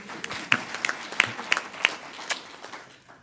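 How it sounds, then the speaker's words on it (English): A brief round of applause from a small crowd at a cabinet retreat, claps crisp and near, tapering off after a few seconds. "Let's give her a round of applause."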